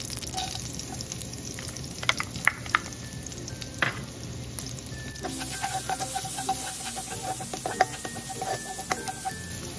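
Garlic sautéing in hot oil in a pan for Filipino sweet-style spaghetti sauce: a continuous close crackling sizzle with scattered sharp pops and occasional utensil clinks, and no voices.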